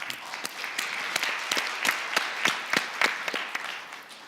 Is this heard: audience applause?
yes